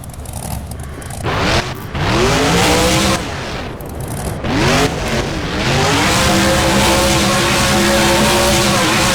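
Monster truck in the BeamNG video game, engine roaring and revving loudly with rising and falling pitch, tyre noise and thuds as it lands from jumps, continuous and close.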